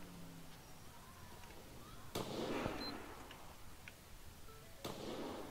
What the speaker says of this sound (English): Be advised, multiple shots fired.